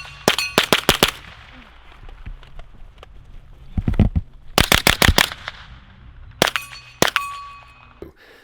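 A Grand Power Stribog 9mm pistol-caliber carbine firing in three rapid bursts of sharp, close, loud shots with brief pauses between the strings.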